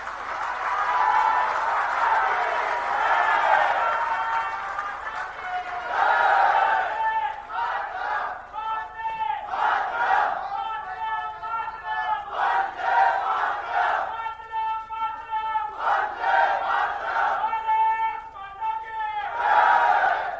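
An audience at a cultural festival held at a university in Ahmedabad, applauding and cheering in sustained, swelling waves of claps and voices, loud and close, with brief dips between surges.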